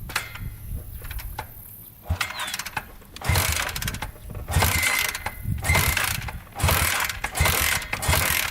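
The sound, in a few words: Honda trike engine failing to start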